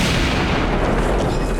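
Replica medieval handgun firing a gunpowder charge, a loud close blast with a dense roar that fills the whole moment and fades only slightly.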